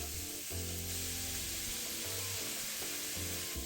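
Dried shrimp and minced pork being stir-fried in a wok: a continuous hissing sizzle with tonal music running underneath.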